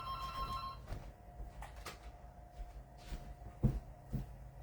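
A landline telephone in a home craft room rings with a thin electronic trill in the opening second, then fades to a faint steady tone under low room noise and a few soft knocks.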